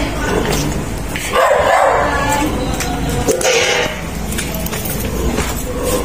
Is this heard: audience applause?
no